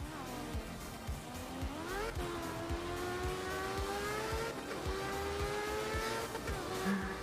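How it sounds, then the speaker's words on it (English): Rotary-engined rally car in Art of Rally, its buzzy engine droning steadily with rising revs, sharp shifts and drops in pitch, and a steady rattling pulse underneath, loud and close throughout. "It sounds so aggressive for a car that's not going really that fast at all. I love it. I love rotary engines."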